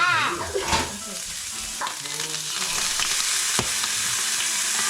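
Salmon fries in a hot pan in a kitchen in Norway, a loud, close, continuous sizzle with crackling bursts and a few scraping stirs.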